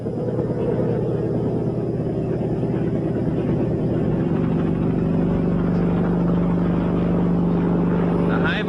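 A helicopter carrying electricians and cables over a desolate, frozen landscape drones steadily and continuously at close range, with someone narrating over the engine noise.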